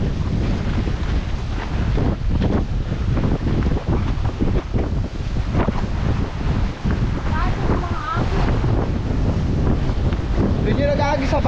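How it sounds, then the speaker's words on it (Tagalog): Rough sea churning at the shore on a day of high waves, with heavy wind buffeting the microphone and constant surf roar, loud and close, while a person talks over it. "pero ngayon umaalon"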